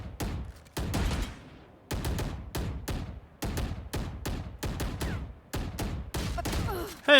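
Rapid bursts of gunfire from Valorant gameplay, a string of sharp loud volleys separated by brief gaps, close and dominant with no talk over them.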